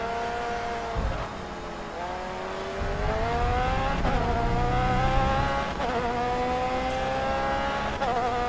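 Race car engine in GRID Autosport drones steadily, its pitch climbing and dropping with each gear change, loud and close with no talk.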